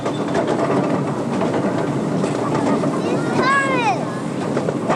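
A train crosses a bridge, its steady rumbling rattle running throughout, with a brief sliding squeal near the end; voices are heard along with it.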